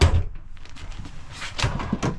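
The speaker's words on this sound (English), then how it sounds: "Look at all these drawers." Drawers in a motorhome are opened and shut, giving several close wooden thunks and sliding knocks at irregular intervals, with a louder pair of knocks near the end.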